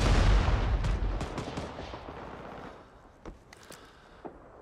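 A grenade blast in the Vietnam War shooter Rising Storm 2: Vietnam opens with a loud, rumbling roar that slowly fades, followed by a few sharp gunshots in the distance.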